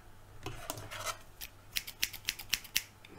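Soft rubbing and brushing gives way to a run of sharp, evenly spaced scissor snips cutting hair right up close, with no voices.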